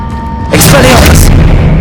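Expelliarmus disarming spell cast in the Hogwarts Legacy video game: a sudden loud magical burst erupts with a bright whooshing crackle, lasting under a second before fading into a steady rumbling hum.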